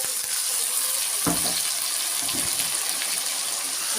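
Water added to a hot frying pan holding a ginger, garlic, chilli and cumin paste, a broad steady sizzling hiss close up, continuous and alone without any talking.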